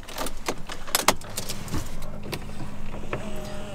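Keys to a 2015 Audi A3 jangle and clink nearby in a few quick metallic rattles, followed by a soft electric whir inside the car.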